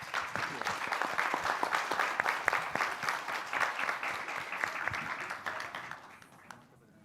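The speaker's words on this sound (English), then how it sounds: "If you can help me with a round of applause for this crowd here." A conference audience applauds steadily, a dense wash of many hands clapping that trails off and fades near the end.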